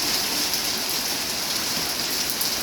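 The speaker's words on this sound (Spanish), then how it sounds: "Me vino fuerte la lluvia." Heavy rain pours down steadily in an afternoon storm, a loud dense hiss of drops on surfaces that stays constant throughout, with no voices.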